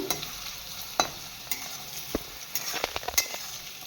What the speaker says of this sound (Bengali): গাজরটা কিছুক্ষণের জন্য ভেজে নেব